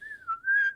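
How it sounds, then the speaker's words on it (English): A person whistling a single wavering, sliding tone, close and clear against a quiet background, with no talking. "I'm just whistling wildly."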